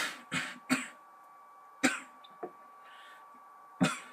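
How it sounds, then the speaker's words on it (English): A person coughs and clears their throat several times, five or six short separate bursts close to the microphone in a quiet room. "Gotta let the coughs out of my system"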